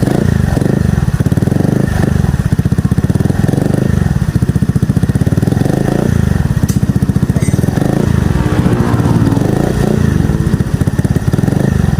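A motorcycle with a full system exhaust and silencer runs loud and steady with a deep, rumbling exhaust note that rises and falls slightly as the throttle is revved, close by.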